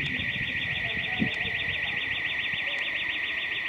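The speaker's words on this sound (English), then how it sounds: "Where's that alarm going from? It's been going on for quite a while." A steady, warbling electronic alarm wails on without pause in a town, holding an even level against low background rumble and noise.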